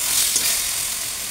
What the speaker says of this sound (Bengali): কষানোর জন্য একটু পানি দিয়ে দিলাম